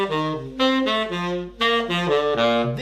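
Descending triads hung from a guide tone line on a jazz tune, played as a quick run of clear sustained notes in short phrases over about three seconds, with no talking.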